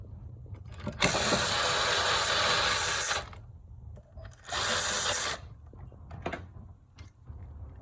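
A power tool with a size 5 hex bit backs out rear brake bolts on a 2020 Mazda CX-5 in two bursts, a long whirring run followed by a shorter one, with clanks and handling noises in between.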